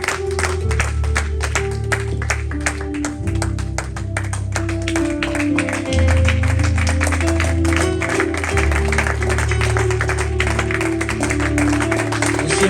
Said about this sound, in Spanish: se pone de pie y le damos un aplauso fuerte al Señor